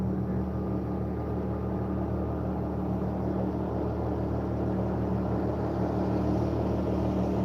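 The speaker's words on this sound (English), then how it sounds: "They got a mud motor." A steady, droning engine hum with a low rumble and a tonal whine, running continuously at moderate distance from a boat with a mud motor on a rocky creek, no voices.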